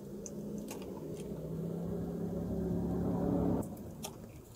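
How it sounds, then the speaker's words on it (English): Lime juice squirted from a squeeze bottle onto birria tacos, a soft wet squishing hiss lasting a few seconds at close range, ending abruptly. "I'm going to squirt a little bit of this lime juice on"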